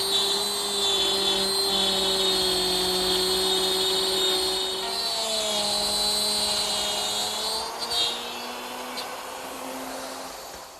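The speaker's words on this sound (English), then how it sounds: "Now I guide the router and start removing the material." A handheld router cuts into wood for a dressing table, a loud steady motor whine with a shifting pitch as the bit bites into the workpiece, running continuously and alone.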